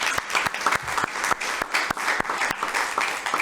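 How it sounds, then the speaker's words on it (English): Audience applause breaks out at a council meeting, a steady wash of clapping from a room of people with sharp individual claps standing out, fairly close and continuous throughout. "how about a round of applause for the people who are making this happen?"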